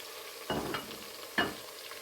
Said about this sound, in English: I'm going to add the spices, that's my vegeta, and then stir it together